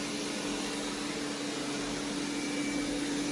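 A Roborock robot vacuum cleaning a kitchen runs with a faint, steady motor hum and soft whooshing airflow, constant and unbroken.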